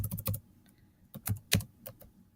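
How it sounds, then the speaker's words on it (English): Quick bursts of typing on a computer keyboard, several close clicking keystrokes in short clusters with small pauses between, fairly quiet and with no talk. "I'm going to type in, for example, what are your plans"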